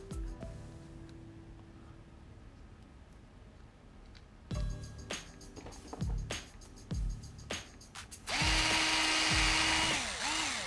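A power drill drives screws into the front differential of an RC car, with short whirring bursts in the middle and a longer, louder sustained run near the end, close by with no talk.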